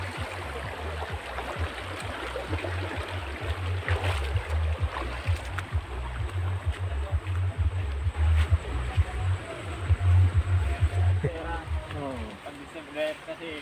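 Clear, clean river water flows steadily through a crossing, forming a continuous rushing wash with a low rumble underneath while people talk over it.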